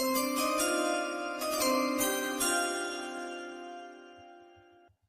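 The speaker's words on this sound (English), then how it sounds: "Roll the chimes." A bright, resonant electronic chime rings out loudly with layered tones, then slowly fades away, ending in a few soft ticks.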